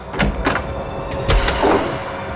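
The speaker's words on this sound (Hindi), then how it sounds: "क्यों दरवाजा तोड़ रहे हो तुम" A door is being forced open, with several heavy, close thuds and knocks in an uneven rhythm followed by rattling, and no voices.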